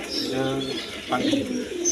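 Young pigeons coo in low, rolling murmurs nearby while a person talks over them.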